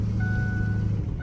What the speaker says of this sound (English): Sorry about all that beeping